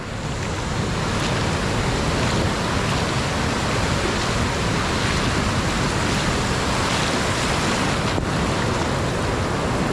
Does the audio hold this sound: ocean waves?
yes